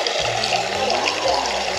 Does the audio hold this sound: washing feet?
yes